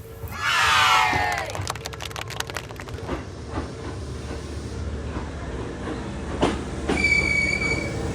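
A train pulls into the station with squealing wheels and rattling cars, loud at first and then settling into a steady rolling rumble, with a crowd murmuring in the background and a bright high tone near the end.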